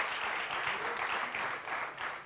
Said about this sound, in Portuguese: Forte aplauso, Um forte aplauso, é hoje.